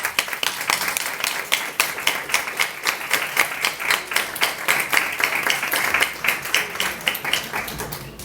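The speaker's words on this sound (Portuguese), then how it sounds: "Um aplauso para a autora." An audience at a book launch in a FNAC store in Lisbon claps for the author, a steady crowd applause with many distinct rapid claps, fairly close and sustained.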